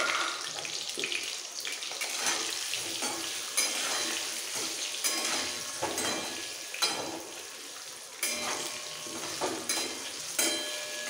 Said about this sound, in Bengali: একটু লাল করে ভাজবো।